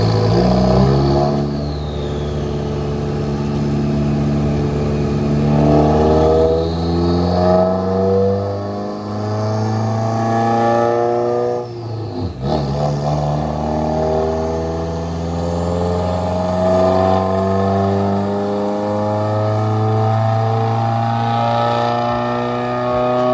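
Subaru WRX on a dyno for an FBO 93 octane pull, the engine revving hard with long rising tones, dips between runs and a sharp drop near the middle, loud and close with no talk.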